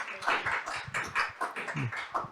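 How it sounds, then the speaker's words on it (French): An audience applauding invited guests at a gathering, a light, patchy burst of hand claps with irregular taps, fairly quiet and close. "Vous pouvez les applaudir."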